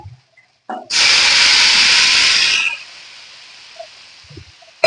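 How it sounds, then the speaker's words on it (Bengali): Water poured into sautéed bitter gourd and potato curry in a hot pan sets off a loud, sudden sizzling hiss lasting about two seconds, then dies to a softer, steady simmering fizz. "সবজি কষানো হয়ে গেছে এই পর্যায়ে আমি দিয়ে দেব পরিমাণ মতো জল"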